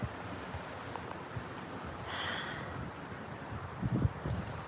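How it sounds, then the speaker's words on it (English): Gusty wind from Hurricane Milton's aftermath blows outdoors, rustling and buffeting the microphone with low rumbles that swell and ease, strongest toward the end. "It's still super windy"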